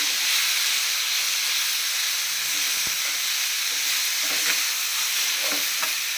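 Mustard seeds and curry leaves tempering in hot oil, producing a loud, steady sizzling hiss with faint crackles, close up and without talk.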